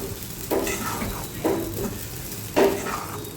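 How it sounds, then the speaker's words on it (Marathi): A spoon stirring sago khichdi in a pan, three distinct scraping strokes against the metal over a soft sizzle, close and clear with no talk. "कंटिन्यू मी चमच्याने हलवलेलं आहे, कारण की खाली चिकटायला नको म्हणून"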